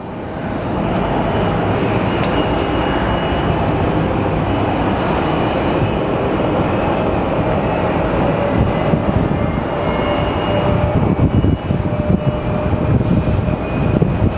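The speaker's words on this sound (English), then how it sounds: "And there's our flight from Chicago." A Boeing airliner arriving from Chicago at Sky Harbor Airport, Phoenix: a loud, steady jet engine roar with a broad rushing drone that holds evenly and swells slightly toward the end, with no voices.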